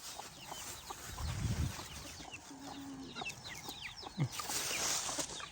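Striped chickens at a temple cluck in short, scattered bursts, fairly close, with a brief low flurry near the start and a few sharper calls later over steady outdoor background noise.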